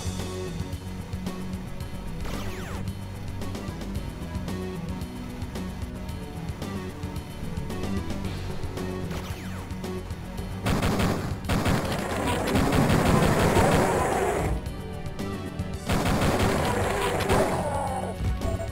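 Rapid gunfire from the player's weapon hits jetpack troopers in the Duke Nukem 3D Hollywood Holocaust level. The shots come in loud clustered bursts over a steady game soundtrack.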